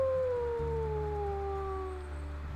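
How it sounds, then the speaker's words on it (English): Wolves howl in the video game WolfQuest, a long sustained howl gliding slowly downward with a second pitched voice layered above it, over low game ambience and with no speech. "We can do a howl."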